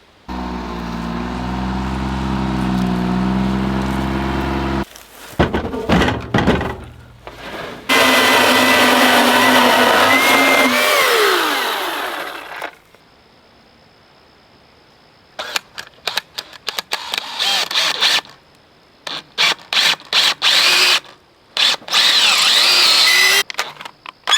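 A power tool cuts a slanted wooden fence post in loud on-and-off bursts, with long whining runs broken by stops, short stuttering pulses and quiet gaps between passes.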